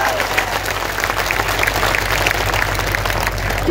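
Loud, thunderous applause from a large crowd at a Ram Navami religious gathering in Mudkhed town, dense sustained clapping close up over a low electrical hum.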